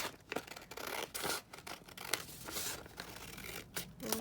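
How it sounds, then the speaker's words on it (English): Scissors cutting paper pages down for a craft project, a quiet close run of snipping and rustling strokes with a few crisp cuts over about four seconds, with no voices. "So just going to cut my pages down a little bit."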